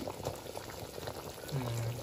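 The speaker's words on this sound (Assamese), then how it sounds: "এতিয়া ধুনীয়াকৈ উতলিব দিওঁ" A pan of food simmers and boils on the stove, a soft continuous bubbling and hiss with a low, rumbling burble swelling near the end, quiet and close.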